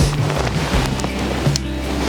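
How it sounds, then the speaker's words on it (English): Outdoor wind gusting to about 21 at a cold night-time astrophotography spot, a steady broadband rush buffeting the microphone with low rumbling surges, no voices. "The wind has picked up a little bit."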